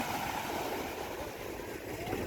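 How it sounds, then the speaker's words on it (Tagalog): Steady rushing wash of large ocean waves out at sea mixed with wind noise, continuous and fairly loud throughout, with a faint boat-engine hum underneath. "Malalaki ng alon."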